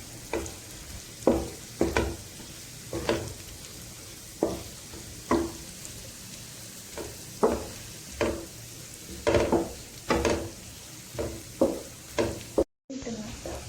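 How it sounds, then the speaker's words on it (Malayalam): Fried prawns are mixed into a sizzling prawn roast in a pan. Steady frying hiss runs under a regular rhythm of close, loud spatula scrapes and stirs, cut by one brief silent dropout near the end. "അതിലേക്ക് ഫ്രൈ ചെയ്ത് വെച്ച കൊഞ്ചിനെ ആഡ് ചെയ്യാം. ഇനി നന്നായി മിക്സ് ചെയ്യാം."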